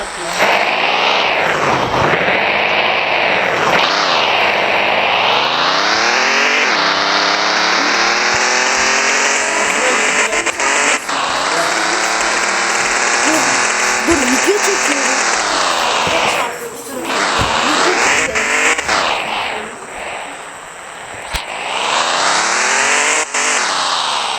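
A BMW car's engine drones loudly and continuously as it is driven home, rising and falling in pitch through repeated accelerations and gear changes, close and dominant throughout.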